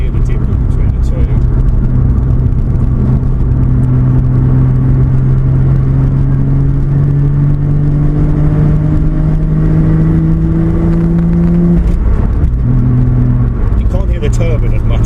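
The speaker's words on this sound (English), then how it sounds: "we'll put the mic in the engine bay so you can hear the difference between the two." A Toyota Supra MK-4 with a 1JZ engine idles and revs, picked up close from inside the engine bay as a loud steady drone with rising pitch, then a short dip and recovery near the end.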